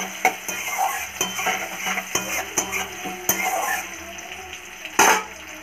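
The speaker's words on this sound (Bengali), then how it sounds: "হালকা মতন ভাজবো, বেশি ভাজবো না।" Onion frying lightly in oil, a moderate sizzle broken by repeated scraping and clinking of a spoon against the pan, with one louder knock near the end and no one speaking.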